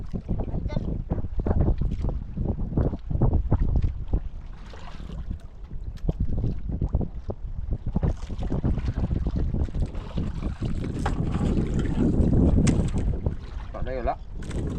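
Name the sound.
strong waves and wind from a typhoon at sea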